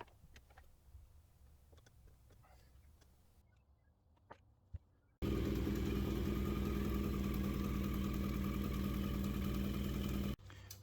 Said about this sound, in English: I've just had the bike running for a wee bit